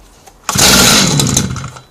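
Gasoline concrete cutting saw engine catches abruptly after a quiet moment, roaring loudly at once and holding a rough, buzzing drone before starting to ease off.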